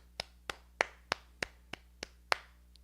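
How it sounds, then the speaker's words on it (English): About eight single hand claps at a slow, steady beat, roughly three per second, sharp and close, with no voices, given as mock applause for a livestream viewer. "let's give this Keisha a round of applause for being the very first fucking Keisha on Y"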